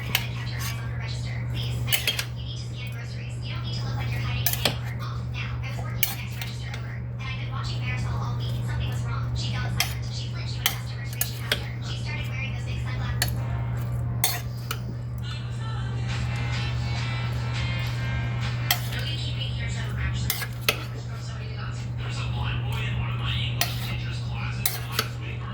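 Chicken chilli with tomatoes being stirred in a pot, with repeated scraping and clinking of a utensil against the pot running steadily beneath a constant low hum, while a person talks throughout.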